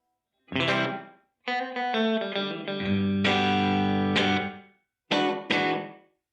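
Electric guitar plays through a Donner reverb pedal with the decay turned down, giving a few separate notes and chords, each with a short reverb tail. The phrases are close and fairly loud, broken by brief silences, with no voices.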